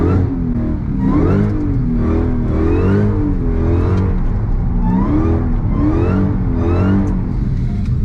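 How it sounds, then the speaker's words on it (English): A Dodge Hellcat drifting through an uphill S-turn in second gear, its engine roaring loud and steady with rising and falling revs as the car flicks between directions, close and continuous. "I'm gonna go second gear, flick in, counter."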